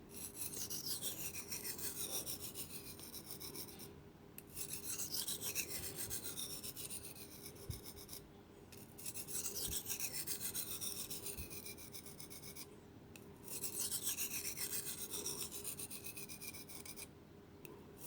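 A knife blade being sharpened on a whetstone, working along the edge a little at a time, gives steady rasping strokes in several long sustained passes with short pauses between them, close and fairly loud, with no talking.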